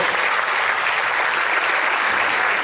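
An audience claps together at an Italian Q&A screening event, a loud dense wash of applause holding steady and even from start to finish with no voices over it.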